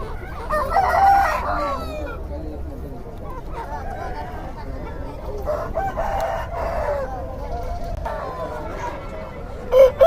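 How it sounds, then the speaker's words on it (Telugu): Country chickens and a rooster at a village poultry market, with repeated clucking and a loud crowing rooster nearby, under steady market chatter and people talking throughout. "చూస్తున్నారు కదా ఫ్రెండ్స్ ఇవన్నీ కోళ్ళు అనేవి ఇలా ఉంటా ఉంటాయి"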